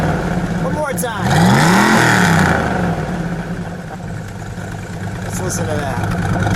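A 1970 Dodge Challenger T/A with a 340 Six Pak V8 revs once in a rising, rumbling burst, then settles back to a steady loud idle, heard up close with voices talking nearby.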